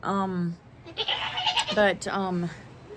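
Small goats bleat inside a large barn: a wavering, close bleat opens, followed by a burst of rustling and another quavering bleat near the end.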